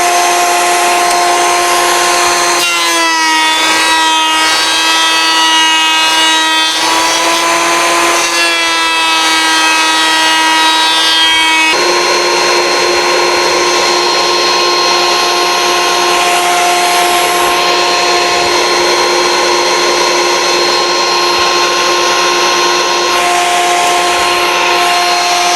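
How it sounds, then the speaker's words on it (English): A wood planer runs a bandsaw-cut piece through to make it clean on all four sides, a loud constant mechanical whine and roar with a higher tonal pitch during the cut. "we've run it through the planer now"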